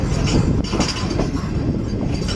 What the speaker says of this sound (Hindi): हमारी ट्रेन स्लो स्पीड में स्किप कर रही है भुलारी रेलवे स्टेशन को